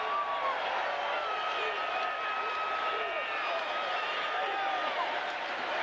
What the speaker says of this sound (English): Crowd here at the Apollo loving what they're seeing.